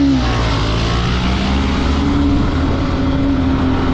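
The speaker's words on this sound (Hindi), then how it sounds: "भाई आवाज़ सुनो यार इस बाइक की, ऐसा लगता है कि इनलाइन फोर की आवाज़ है।" A loud, steady engine roar with a rising droning tone, continuous and close, from a motorcycle with an inline-four sound being revved; no talking.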